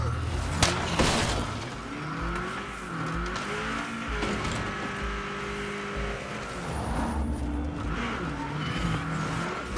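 A car drives in the zombie survival game State of Decay 2, its engine droning and shifting pitch under game noise, with a brief sharp clatter early and a faint high tone later; speech is present.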